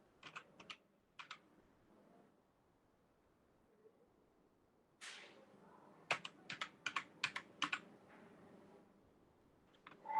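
Someone types an email address on a computer keyboard while filling in a mail merge entry in MS Word 2013, heard as short scattered bursts of quiet key clicks separated by pauses, close with no talking.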